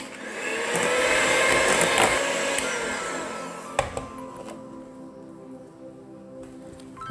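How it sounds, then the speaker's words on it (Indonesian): An electric hand mixer beats egg yolks into chocolate cookie dough in a bowl, a steady close motor whir that gradually eases off, then a couple of clicks and a quieter hum. "Ini akan saya mixer hingga kuning telurnya tercampur rata."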